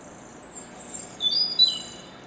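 A bird gives a laughing call, a few bright chirping notes that rise and fall, with the loudest notes bunched near the end over a quiet background.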